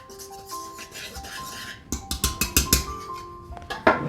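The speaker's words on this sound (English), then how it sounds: "Using a whisk, combine the ingredients." A whisk stirring baking powder, baking soda and other dry ingredients in a bowl for chocolate banana bread, a quick burst of about eight scratchy rubbing strokes in the middle, close, with a soft tonal hum behind and quiet stretches before and after.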